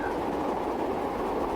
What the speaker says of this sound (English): with a train going the opposite way.